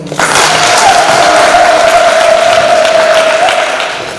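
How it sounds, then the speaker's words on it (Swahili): An audience at a district public event breaks into loud, sustained clapping that starts abruptly and stays full for about four seconds before tapering off, with a steady whistle-like tone running through it. "Tupige makofi jamani."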